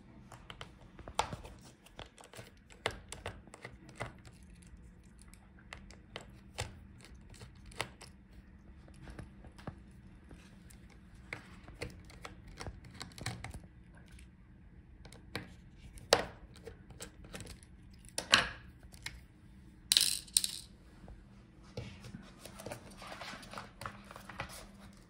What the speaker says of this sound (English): Now we can unscrew the hinges for the display.